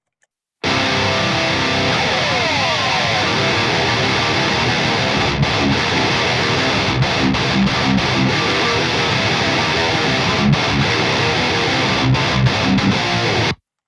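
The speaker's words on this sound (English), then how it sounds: "super gnarly guitar tones there" A Schecter PT SLS Elite electric guitar played through an Amp Knob BDM 410 JVH gives heavy, distorted riffing. It stays loud and dense throughout, broken by several short, sharp stops.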